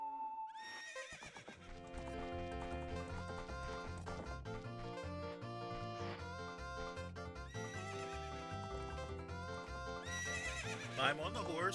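A horse neighs and clip-clops in The Legend of Zelda: Ocarina of Time on N64, the whinny rising over a steady game music score with hoofbeats, while a voice talks over the playback.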